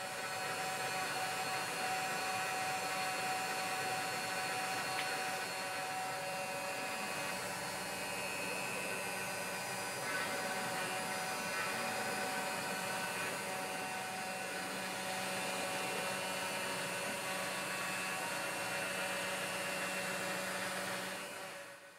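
A CNC router cuts a sign from wooden stock, a steady, high-pitched whine that holds level for the whole stretch, with a faint low hum underneath.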